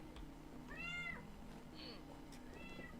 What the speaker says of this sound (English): That cat is outside my window.